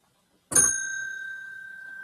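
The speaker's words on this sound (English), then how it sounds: "every time you hear this bell ring" A single bright bell ding rings out clearly and then sustains with a long, slowly fading shimmer.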